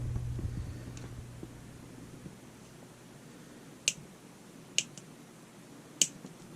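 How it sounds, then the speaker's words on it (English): Side cutters (wire cutters) cutting back the insulation on wire for homemade test leads: three sharp, isolated snips spaced about a second apart, close and crisp against near silence. "I just take side cutters, wire cutters, and cut it back."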